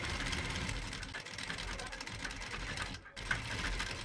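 A sewing machine runs a short stitch along a garment neckline backed with buckram, giving a steady, close mechanical whir with a brief dip near the end.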